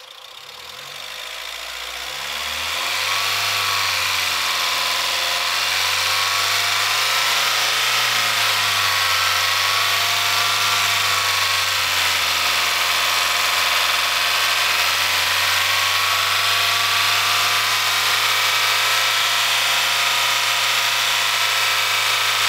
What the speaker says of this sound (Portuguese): Diego, acelera para nós.